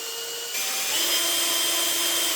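An electric drill spins a brushless motor to generate electricity, with a steady high whine that rises slightly in pitch after half a second and then holds constant up close.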